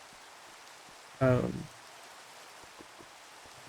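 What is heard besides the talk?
rain falling in Minecraft video game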